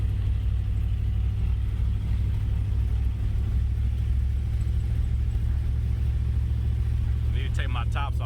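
A 1980s third-generation Chevrolet Camaro drives along with a heavy, constant low engine rumble throughout, and a voice speaks over it near the end.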